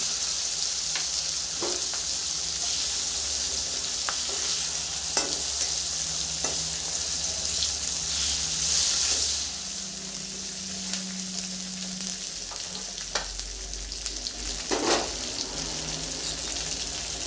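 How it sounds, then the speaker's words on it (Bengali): Tomatoes and capsicum frying lightly in oil on a gas stove: a steady, moderate sizzle with occasional stirring clinks and scrapes throughout, no talk. "এই টমেটোগুলো হালকা একটুখানি ভেজে নিই গ্যাস তেলে দিয়ে দিব তার সাথে কটা ক্যাপসিকাম ভেজে নেব"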